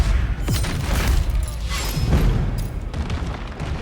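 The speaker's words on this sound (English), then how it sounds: "And I'm going to do heavy fire again." Ship cannons unleashing heavy fire in the pirate game Corsair Cove, several loud booming blasts in quick succession with rumbling tails and crackling debris between them, close and forceful.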